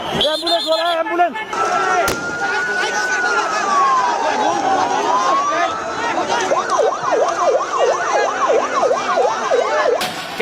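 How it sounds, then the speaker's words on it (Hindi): An ambulance siren at a street protest in Nepal sweeps in a slow, long wail, then switches to a rapid, steady yelp, loud over continuous crowd and traffic noise with a few sharp bangs. "एम्बुलेंस वाला, एम्बुलेंस।"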